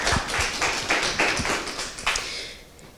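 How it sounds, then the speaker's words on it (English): Scattered hand claps from an audience at an entrepreneurship accelerator's final presentations, sharp separate taps over a wash of noise that thins and fades toward the end. "Let's have a round of applause for that."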